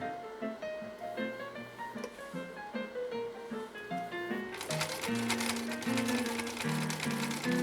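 A 1960s Husqvarna Viking 6440 sewing machine stitches through tough, sandpaper-like material, its needle clattering in a steady rhythm close by, then speeding up into a louder, busier whir partway through.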